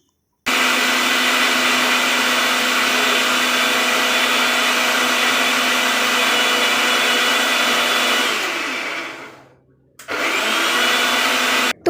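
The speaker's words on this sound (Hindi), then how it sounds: "यहाँ पे मैं मसाला पीस रही हूँ क्योंकि सुबह सुबह बहुत ज़्यादा जल्दबाजी थी, इस वजह से मैंने मिक्सर का ही यूज किया।" Electric kitchen mixer grinder pulverising spices for a dry paneer curry, a loud steady whine running continuously for about eight seconds, then winding down and cutting out briefly before starting up again.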